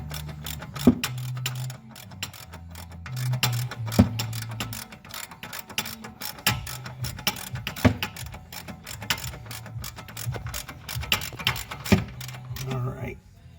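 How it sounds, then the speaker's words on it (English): Angled ratchet wrench clicking rapidly in short repeated bursts while tightening a front brake caliper bolt on a 2007 Mercedes-Benz CLK 550 AMG, close and crisp with low hum underneath. "This angled ratchet wrench I'm using, it's like a breaker bar, but you can bend it all the way to a 90 degree."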